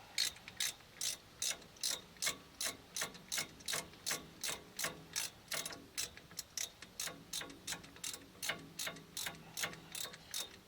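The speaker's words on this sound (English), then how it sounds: "I'm just going to tighten them down." A hand ratchet clicks in rapid, even bursts while tightening bolts on the rear brakes of a 2019 Honda Odyssey, close and loud with no talking.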